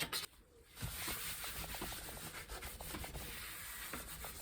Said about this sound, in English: I keep a blade here because it's very good for scraping off muck that gets on top of the desk